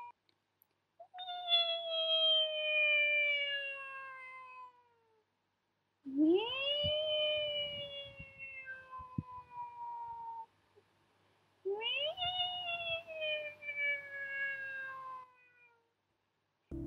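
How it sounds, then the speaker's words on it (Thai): A cat meows in three long, drawn-out wails separated by short pauses, each cry rising then sliding down in pitch, heard close and clear against near silence as a sound effect in a Thai ghost story narration. "เสียงแมวก็ปรากฏขึ้นอีก"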